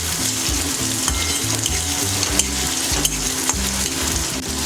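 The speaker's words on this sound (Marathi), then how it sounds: "कांदा व्यवस्थित भाजून घेऊया आपण" Onion and tomato fry in hot oil with a steady, close sizzle while being stirred, with repeated scraping and light clinks against the pan and no voices.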